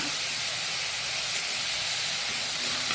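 Cauliflower with greens frying in a pan with little oil, giving a steady, even hiss of close sizzling that holds constant without breaks.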